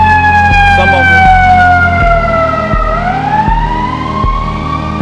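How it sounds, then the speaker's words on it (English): A police car and an ambulance go past in the street with loud wailing sirens whose pitch swoops and then drops as they pass, alongside heavy rhythmic low thumping, close and dominant. "I've seen 2 police cars, 1 ambulance kind of go by"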